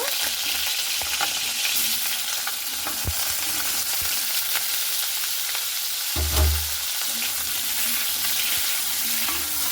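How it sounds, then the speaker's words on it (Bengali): Jackfruit pieces frying in hot oil, sizzling steadily throughout with occasional stirring clatters from a utensil in the pan and a brief low thump near the end. "এরপর ওই তেলে আমি দিয়ে দিচ্ছি সেই কাঁঠালগুলোকে হালকা করে ভেজে নেব"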